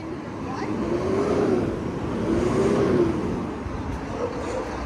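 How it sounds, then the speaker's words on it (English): A big trash truck rolls past on a street, its engine droning loud and close with a rising and falling pitch, swelling and easing as it goes by, while a voice talks quietly underneath. "here's a big trash truck"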